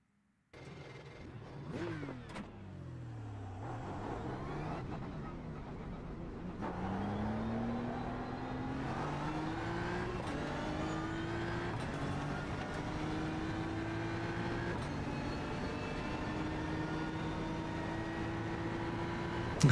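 A BMW GT3 race car in a racing game at Mount Panorama revs up hard, then holds a sustained, climbing engine howl through the gears, close and steady, with no talk.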